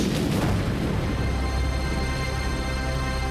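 A violent explosion effect in a narrated story: a deep, rumbling boom that holds steady and loud for a few seconds, with no voice over it.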